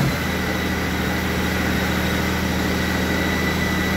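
An engine idling just after new spark plugs were fitted, a steady close low rumble with constant vibration and no variation throughout.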